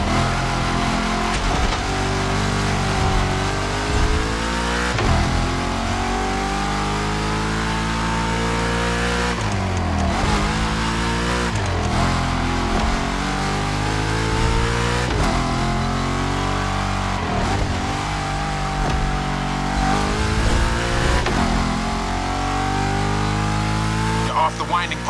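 Supercharged V8 car engine from a racing video game, revving and pulling through repeated rising gear sweeps with brief shift dips, loud and continuous under a voice talking over it.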